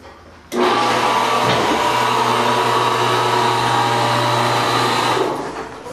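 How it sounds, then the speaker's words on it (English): Loud, steady mechanical hum and whine of a vehicle lift raising a car in an alignment shop, starting abruptly and droning evenly for several seconds before easing slightly at the end. "then you're going to raise the vehicle"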